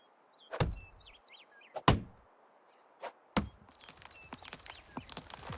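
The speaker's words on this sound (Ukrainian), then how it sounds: "О, клен я можу рубати." An axe bites into a maple tree in the medieval survival game Medieval Dynasty, four sharp woody thwacks at uneven intervals with faint birdsong chirping in the quiet background.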